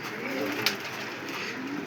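Racer pigeons in a pigeon house give low, rolling coos at moderate level, with one brief sharp click partway through.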